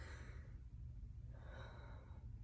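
Slow, deliberate deep breaths drawn in and let out during a relaxed photo posing session, two long airy exhalations a second or so apart, soft and close over a low steady background hum.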